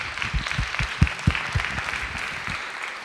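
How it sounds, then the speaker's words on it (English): A crowd at a high school capstone project presentation claps steadily for the students, a rapid patter of hand claps with a few sharper peaks, moderately loud and close, with no talking over it. "let's give the kids another round of applause"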